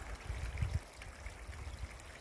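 A small mountain stream trickles and gurgles softly as about three litres of water are collected from it, a faint, continuous outdoor babble with a few slightly louder splashes.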